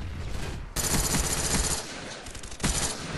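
Bursts of automatic gunfire in the video game Call of Duty: Black Ops, a dense rattling fusillade breaking out abruptly and running loud and continuous, then another sharp burst near the end.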